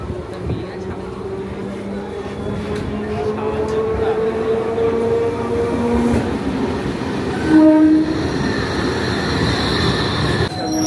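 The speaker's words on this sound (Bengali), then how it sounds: "ফাইনালি আমাদের ট্রেন চলে এসছে।" A train pulling into Baruipur station, a loud rumbling roll that builds and holds with a brief horn blast partway through, station voices faintly underneath.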